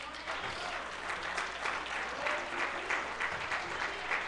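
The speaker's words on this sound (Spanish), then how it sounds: "Un fuerte aplauso al Señor" Church congregation applauding at a Sunday service, a steady wash of many hands clapping together, sustained and fairly even throughout, with a few louder swells.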